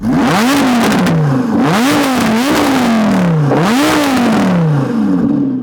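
Audi R8 with a Capristo exhaust revving hard, several loud rising-and-falling rev sweeps one after another, close and aggressive with no talk.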